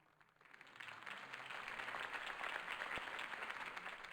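A crowd breaks into applause after a campaign speech, swelling from near quiet into sustained, dense clapping heard from a distance.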